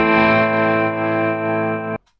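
Audio over-stretched in Reaper yields a buzzy, smeared sustained tone full of time-stretch artifacts, steady and loud for about two seconds before cutting off abruptly.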